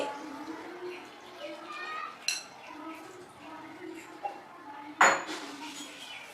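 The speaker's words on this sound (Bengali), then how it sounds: "মিক্সিং বলে চিকেনগুলোকে দিয়ে দিচ্ছি" Chicken pieces go into a mixing bowl with a few sharp clinks of utensils against the bowl, the loudest near the end, while a voice talks quietly in the background.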